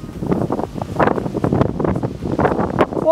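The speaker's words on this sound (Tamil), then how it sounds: "வெளியே போலாம் நல்லா காத்து அடிக்குதா." Strong wind buffets the microphone outdoors during Diwali firecracker shopping, loud, gusty and continuous, with rough rumbling bursts and no talking.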